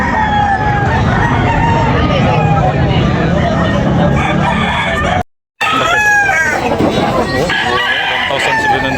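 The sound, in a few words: roosters crowing and clucking at a chicken market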